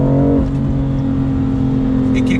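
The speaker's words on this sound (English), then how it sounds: "It kicks down quick. It threw me right into 3rd, and then it builds up pretty progressively." A BMW M2 Competition accelerates hard after a quick transmission kickdown into third, its engine tone climbing steadily in a loud, continuous drone heard from inside the car.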